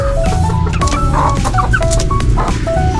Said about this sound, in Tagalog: Mayroong isang tandang at saka tatlong inahin.